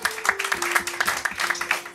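Audience applause at a French evening reading event, dense clapping filling the whole stretch at steady moderate loudness with a held tone underneath.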